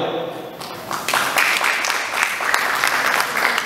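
Audience applause at a live comedy show in Morogoro, a broad steady wash of clapping that swells after the first second and stays dense and close to the end, with some voices mixed in.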